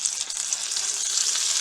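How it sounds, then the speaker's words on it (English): A meatball sizzles on a hot grill, a steady bright crackling fry with dense spitting pops throughout, close and loud with no voices. "Put it right on the grill."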